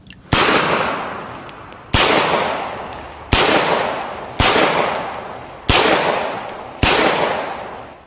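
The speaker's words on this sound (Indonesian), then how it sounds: "Wow, lihat ada tembak-tembakan pistol Mauser." A toy Mauser pistol fires six loud, evenly spaced sharp bangs, each snapping crisply and then fading in a long hiss before the next shot, with no talk.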